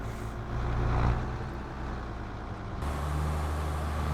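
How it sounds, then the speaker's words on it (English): A tractor engine runs steadily nearby during planting, a continuous low diesel rumble with a brief surge in load, then settling into an even drone. "I just love the sound this tractor makes."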